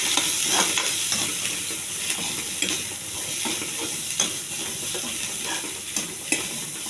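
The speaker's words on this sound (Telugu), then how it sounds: "ఇది చాలా సింపుల్ తాలింపు అండి." A simple tempering sizzling in a pan for a chickpea fry, a dense, steady, close frying hiss with light stirring clicks throughout, no voices.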